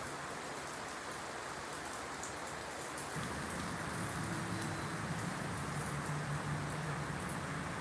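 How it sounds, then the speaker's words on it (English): Steady rain pours down on a baseball field in Cleveland during a simulated broadcast rain delay, a dense continuous hiss that thickens slightly midway, with a faint low hum underneath and no voices. "It's raining in Cleveland."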